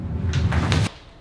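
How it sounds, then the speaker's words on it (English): A door handled and rattled in a struggle to open it, with dense clattering bursts of handle and frame noise lasting under a second, then a sudden stop to quiet. "I'm gonna try this door again."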